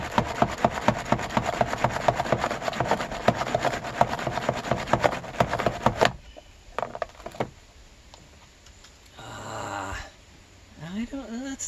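A dirty used Titleist Velocity golf ball being scrubbed by hand, a rapid rhythmic rasping rub for about six seconds, then a few scattered scrapes and a soft voice before it ends.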